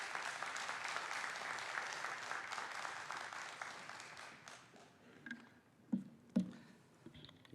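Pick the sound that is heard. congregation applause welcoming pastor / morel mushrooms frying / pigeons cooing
congregation applause welcoming pastor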